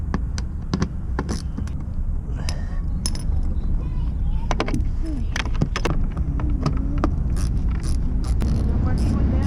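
Metallic clicks and ratcheting taps come from a tool removing 8mm screws on a 2012 Chrysler 300, scattered close and sharp over a low background hum.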